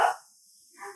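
A dog indoors gives a single sharp bark at the start, then a fainter yelp or whine follows after a short silence.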